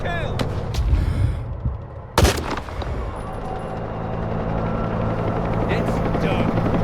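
Gunfire and explosions in the video game S.T.A.L.K.E.R. 2, with bursts of shots, a heavy blast around the middle and a rumbling battle din, plus what sounds like rotor noise building toward the end.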